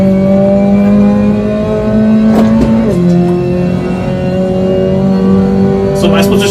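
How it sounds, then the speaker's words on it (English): Race car engine holding a steady droning tone, then dropping in pitch midway as it downshifts before settling into a lower hum, loud and close. "downshifting."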